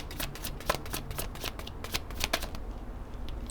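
Tarot cards being shuffled by hand, a soft papery riffling and slapping that repeats in quick bursts, close and fairly quiet, with no talking.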